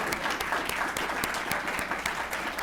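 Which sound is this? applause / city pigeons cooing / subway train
applause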